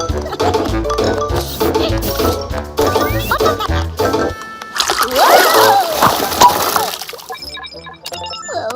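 Cartoon water splashes and sloshes loudly in an animated undersea adventure, with bursts of splashing alongside voices and background sound effects.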